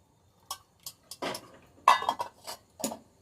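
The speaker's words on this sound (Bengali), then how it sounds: "এখন আমি চাটা ছেঁকে নিচ্ছি।" Tea is poured through a strainer with metal utensils, producing a quick series of close clinks and scrapes, about eight distinct knocks over a few seconds, with no talking.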